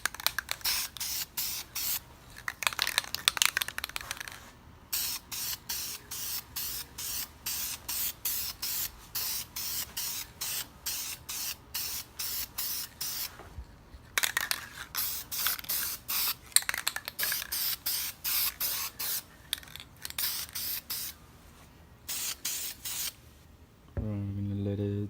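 Aerosol spray paint applied in light coats to a steering wheel from a 1994-2004 Mustang GT or V6, heard as rapid close bursts of hissing spray in repeated short strokes with brief pauses, ending with a low thump.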